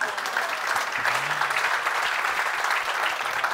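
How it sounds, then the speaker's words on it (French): Applause at an Auvergne-Rhône-Alpes artisan trophies ceremony, sustained and even, from an indoor audience clapping together for about three and a half seconds, with a brief murmur of voices underneath. "on peut l'applaudir"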